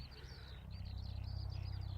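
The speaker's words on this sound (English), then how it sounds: "I sat here listening to the birds." Soft bird chirps and cooing calls at sunset in Bevendean, Brighton, fairly faint, over a low steady hum.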